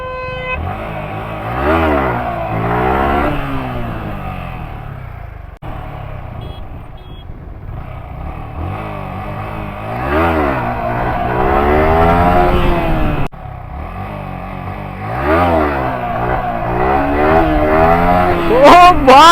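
A motorcycle engine, running very hot, revs hard during a long wheelie stunt, rising and falling in repeated loud, close surges for the whole stretch. Voices talk over the engine.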